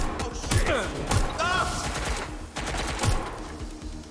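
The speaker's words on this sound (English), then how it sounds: "Tak pomaly tá zbraň strieľa." Gunfire in the video game Watch Dogs: Legion: several heavy shots thump at intervals amid dense game noise and effects, loud and close.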